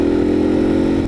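A CSC RX-3 motorcycle crawls slowly in first gear, its engine giving a steady, close, even drone with no revving or change in pitch.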